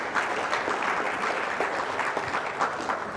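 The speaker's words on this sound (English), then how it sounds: "A round of applause to the Grenada Bar Association." A room applauds the Grenada Bar Association at its memorial lecture, a steady, moderately loud patter of many hands with scattered distinct claps and no talk over it.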